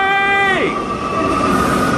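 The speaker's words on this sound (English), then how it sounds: "train going by" A train horn blares up close with a steady chord that bends downward as the train passes, then gives way to a continuous loud rumble of the train going by, with no talking.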